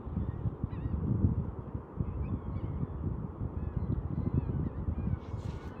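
A dense flock of geese honking continuously near a beach at Pawleys Island around sunrise, overlapping calls over a steady low rumble of wind or surf.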